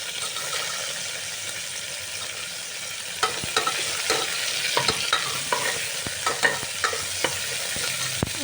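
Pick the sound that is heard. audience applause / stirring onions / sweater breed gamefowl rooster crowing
stirring onions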